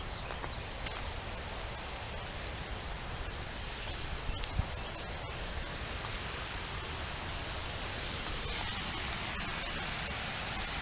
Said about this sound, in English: Well, I can hear the water flowing now.